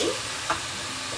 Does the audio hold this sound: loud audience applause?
no